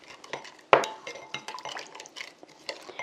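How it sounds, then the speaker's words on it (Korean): A spoon stirs a seasoning sauce of garlic and sesame seeds in a bowl: one sharp clink against the side, then a run of light scraping taps and soft clatter, close and alone. "저어주세요."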